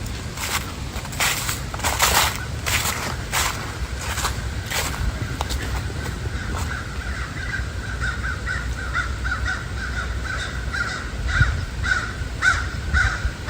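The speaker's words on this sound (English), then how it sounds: "Okay, tons of crows." Many crows cawing along Conneaut Creek in autumn, repeated harsh calls from several birds at mid distance, with crunching footsteps in leaves beneath them.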